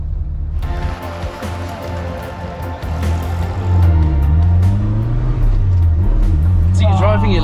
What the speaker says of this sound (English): So you're driving it like a rally car.